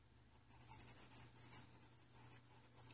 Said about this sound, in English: as I draw over the bat again